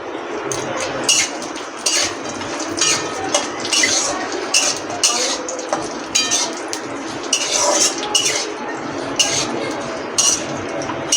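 Cashews and raisins tossed in a pan for pulao give off repeated clinks of a utensil against metal over a soft steady sizzle, close and fairly loud, with no talking.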